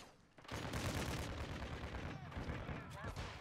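Dense, sustained gunfire erupts in a Modern Warfare 2 multiplayer match as a firing squad opens up: loud overlapping rapid shots rolling continuously for about three seconds after a brief quiet start, with no talking.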